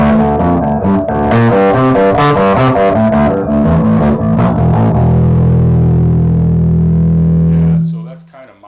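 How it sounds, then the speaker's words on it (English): An electric bass, a Warmoth Tele-style instrument, played through a Tube Screamer overdrive pedal for light grit, giving a loud run of punchy, slightly distorted notes that ends on a long sustained low note fading out. "I tend to use a tube screamer really not for distortion, just a little bit of overdrive, touch of grit."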